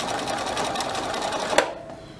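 A sewing machine runs steadily, stitching close to the needle, then stops abruptly with a brief clack near the end, leaving near silence.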